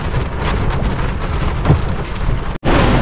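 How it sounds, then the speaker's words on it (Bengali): Strong wind roaring steadily across the microphone during Cyclone Remal by the water where people are fishing, a loud continuous broadband rush with gusts, a brief dropout near the end, and no speech. "তো হাওয়া কমছে না বন্ধুরা"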